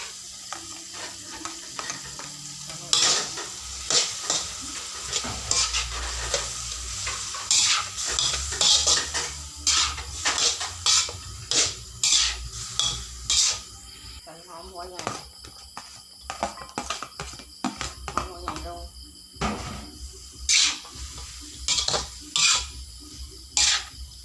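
Squid stir-frying with garlic in a hot pan, a loud sizzle broken by repeated sharp scrapes and clanks of a utensil against the pan, with a voice speaking over the cooking at times.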